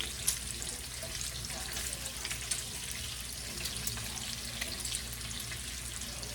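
Steady sizzling and crackling of bacon frying in hot oil, a continuous close hiss with small pops throughout.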